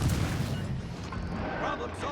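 High-caliber naval gun fire from the destroyer Mahan in a naval video game. A deep, rumbling boom opens the moment and fades under steady engine noise while someone talks over it.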